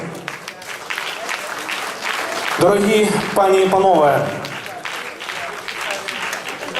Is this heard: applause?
yes